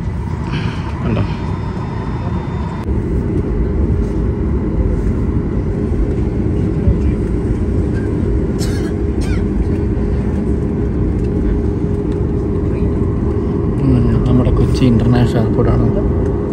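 An Akasa Air airliner being pushed back at Kochi International Airport gives a steady, loud low rumble and engine drone throughout, with a person talking over it.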